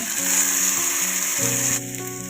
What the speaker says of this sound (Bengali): নাড়াচাড়া করে কিছুক্ষণ ফ্রাই করবো